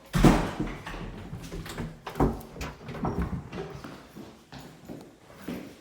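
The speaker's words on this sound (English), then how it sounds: "I'll just pull all these doors shut." Four interior doors in a house being pulled shut one after another, a series of close thuds, knocks and sliding rubs at an uneven pace.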